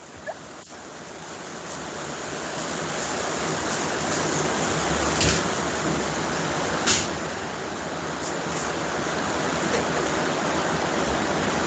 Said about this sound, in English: Oh, the rain's just come.